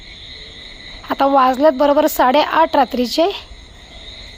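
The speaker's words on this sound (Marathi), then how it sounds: "कालोकचिट रातकिड्यांचा आवाज येतो भयानकवाला एकदम." Crickets chirp outdoors at night in a steady, high, continuous drone that sits under a person's nearby speech and carries on alone before and after.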